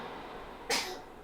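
A single sharp sneeze bursts out close and fairly loud in a quiet indoor room, following a soft background hiss.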